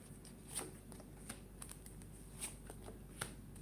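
Tarot cards are shuffled and handled up close, with soft riffling and a few crisp snaps and taps in a quiet room.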